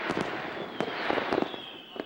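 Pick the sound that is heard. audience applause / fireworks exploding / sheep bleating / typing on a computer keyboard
fireworks exploding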